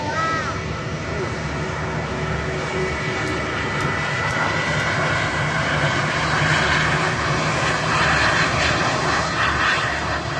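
A Chongqing Airlines Airbus A319 jet approaches with a loud, steady engine roar that swells gradually, while crows caw in the background.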